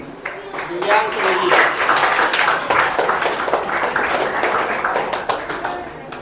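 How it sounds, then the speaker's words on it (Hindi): Students in a coaching class clap in a steady patter of applause, with voices talking and calling over the clapping throughout. "ताली बजाइए"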